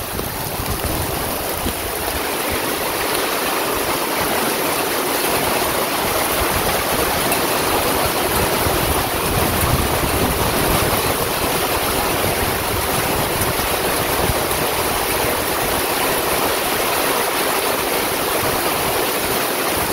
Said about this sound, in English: All the water from the driveway here will slant down all the way.